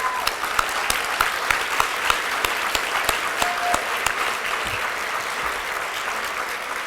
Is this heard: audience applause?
yes